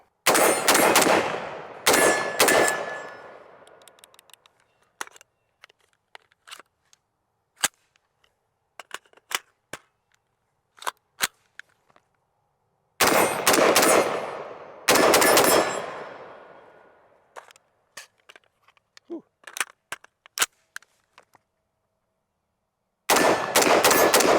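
A PSA JAKL SBR and a Springfield Hellion bullpup rifle fire outdoors in loud close bursts of rapid shots, separated by quieter gaps with scattered clicks and handling noises.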